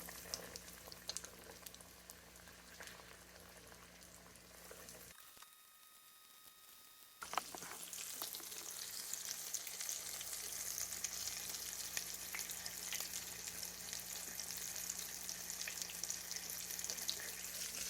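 Breaded chicken tenderloins, three or four in a pan, fry with a close, steady crackling sizzle, briefly interrupted by a short quiet gap before the sizzling resumes louder.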